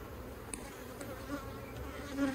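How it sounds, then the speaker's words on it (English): Bees buzz faintly and continuously around an open beehive, a soft insect hum with occasional louder passes as one flies near. "who doesn't like the sound of bees"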